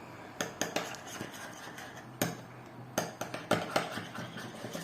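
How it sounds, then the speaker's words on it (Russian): A spoon stirring sour cream garlic sauce in a bowl, with repeated sharp clinks and scrapes against the dish coming in quick irregular bursts, close and clear. "Берем ложечку и начинаем вымешивать."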